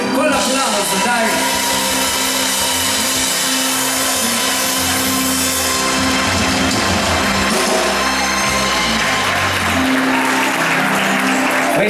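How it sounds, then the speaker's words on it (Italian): Applause at a frog festival dance evening in Santa Lucia di Piave with a live orchestra, dense steady clapping mixed with music and crowd noise throughout. "Vieni pure, con l'applauso, dai!"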